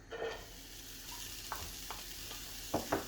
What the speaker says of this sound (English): Now I'm going to add the onions.